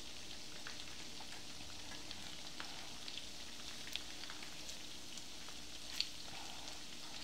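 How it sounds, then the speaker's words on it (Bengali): Chicken pieces fry in a pan as the first step of fried chicken pulao, giving a faint, steady crackle and hiss with occasional small pops. "তো আমি এটা একটু একটু করে উল্টে দিচ্ছি যাতে দুই পাশ সুন্দর করে ভাজা হয়।"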